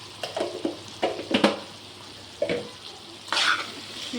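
Spices are stirred into a brinjal and tomato curry in a pan, giving a few scraping strokes and soft sizzles, close by and moderately quiet, with gaps between the movements.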